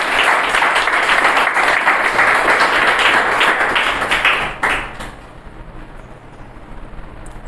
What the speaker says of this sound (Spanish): démosle un aplauso al Señor porque estamos completos en Él.